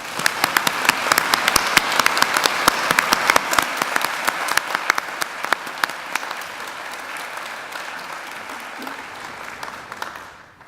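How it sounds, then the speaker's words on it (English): A large audience at a university graduation ceremony applauds the graduates, sustained crisp clapping at moderate distance that gradually thins and fades out. "Please join me in giving them a round of applause."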